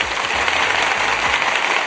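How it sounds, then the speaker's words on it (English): Brief, loud applause for a young woman on a Monday morning show, a close, dense burst of clapping with a low hum running underneath. "Let me give you some applause here upon this Monday morning here"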